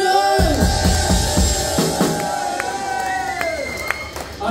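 Cheering and applause from a rock concert crowd between bands, with whoops and shouts rising over sustained stage feedback and ringing amplifier tones, loud and close throughout.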